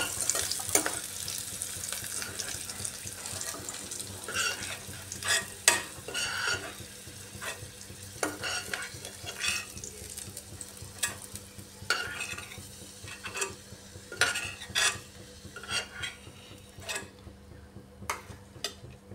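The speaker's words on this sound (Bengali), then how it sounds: "পেঁয়াজগুলো ভাজা ভাজা হয়ে এসছে," Onions frying in a pan with mustard oil sizzle steadily while a spatula stirs and scrapes them in repeated bursts, close and fairly loud, with no talk.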